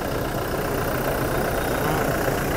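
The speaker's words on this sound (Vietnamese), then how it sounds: "Đây quý vị, cái khối động cơ đây ạ." Diesel engine of a 2020 Toyota Fortuner with automatic transmission idles steadily and close up, a continuous even rumble with no talk over it.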